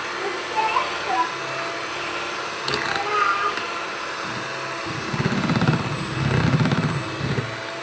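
An electric beater whips cream for a 1 kg oven-less cake in a steel vessel, its whirring motor rising in bursts in the second half over faint background sounds.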